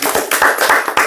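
An audience in a Hindi-language lecture hall breaks into a short burst of clapping, a quick run of sharp hand claps close by and fairly loud, with no talking over it.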